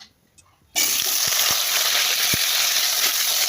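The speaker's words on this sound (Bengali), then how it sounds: "দেখো তেলটা গরম হয়ে গেছে তো আমি আলুগুলো দিয়ে দিই" Potatoes drop into hot oil after a quiet moment, setting off a loud, steady sizzle with a few sharp pops and crackles as they fry in a home kitchen.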